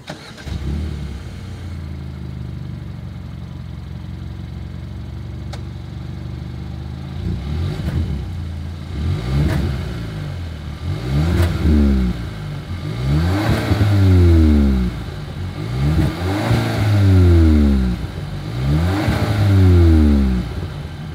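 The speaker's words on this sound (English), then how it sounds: "As always, here is that exhaust clip." A 2021 Kia K5 engine idles, then is revved repeatedly through the exhaust, rising and falling in roughly regular bursts that grow louder, close up.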